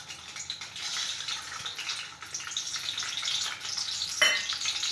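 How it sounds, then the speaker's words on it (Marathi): Eggs fry in a spoonful of hot oil in a pan for a village-style egg curry, a steady close crackling sizzle with light spattering throughout and a brief stir near the end. "1 चम्मच तेल टाकून घेऊया आणि त्याच्यामध्ये आपण अंडे फ्राय करून घेऊया।"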